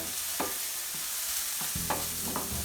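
A spoon stirs food frying in a pan on an electric element, giving a soft, steady sizzle with a few quiet scrapes and taps, close by and low in level.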